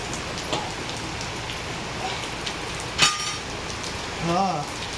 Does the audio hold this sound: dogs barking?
no